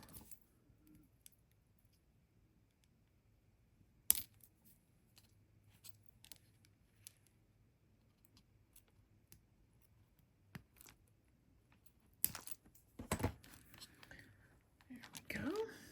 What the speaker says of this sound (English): I'm going to use my good trimmers for that